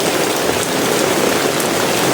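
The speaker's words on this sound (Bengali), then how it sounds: "তখনও বৃষ্টি পড়তেছে" Heavy monsoon rain falls over a village with flooded paddy fields, a dense, loud, continuous hiss of drops striking surfaces close by.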